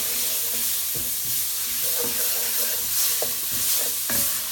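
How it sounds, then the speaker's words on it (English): Tomato paste for pastitsio cooks in a pan, a steady sizzle and fry hiss with repeated scraping stirs knocking at a loose, uneven rhythm, close and without talk. "you want to cook out the tomato paste"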